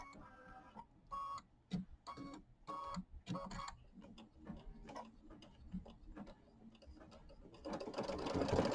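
An embroidery machine stitches a Kimberbell quilting design on pieced quilt blocks with quick, rhythmic ticking bursts and pauses as it moves between sections, close and fairly quiet, with no talk.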